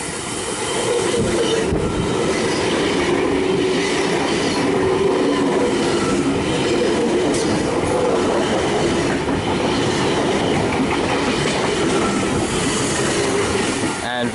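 A Sydney V-set electric train rolls past close by at Wondabyne, loud and continuous, with rhythmic clickety-clack of wheels and a faint squeal over the roar.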